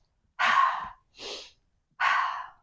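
Three deliberate breaths in alternate-nostril pranayama practice, a long inhale, a softer shorter one, then another long airy exhale, close and clear with no talk over them.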